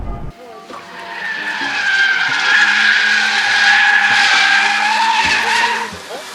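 A Mazda RX8 drifting, its tires skidding in a long sustained squeal that swells and holds for several seconds over engine noise, with an instructor's voice speaking in the background.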